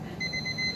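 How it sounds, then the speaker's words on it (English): Kitchen timer alarm beeping steadily while noodles are being cooked, a thin repeating electronic tone sitting over low background noise. "Sorry, that's my timer."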